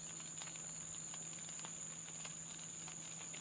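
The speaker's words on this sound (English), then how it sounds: "Can hear the crickets in the stream." Crickets and other insects chirp through a late evening at an outback rest area at 41 Mile Bore, Warumungu country, a faint steady high-pitched trill with soft scattered ticks, no talking.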